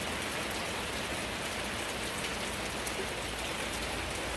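Steady outdoor rainfall after days of on-and-off wet weather, a dense, even hiss of drops hitting surfaces, constant and fairly loud with no voices over it.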